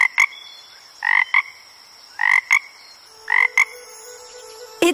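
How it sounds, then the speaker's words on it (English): A cartoon frog croaks in three quick, evenly spaced pairs of loud, close calls, clear against a quiet background with no talking. "It's a frog!"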